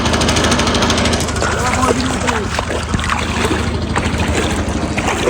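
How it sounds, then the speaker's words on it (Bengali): A fishing boat's engine drones steadily on a river, with splashing and wind noise mixed in and voices talking faintly in the background. "দেখেন কত কত স্পিরিটের এই দেখছেন অনেক অনেক সুন্দর একটা নৌকা"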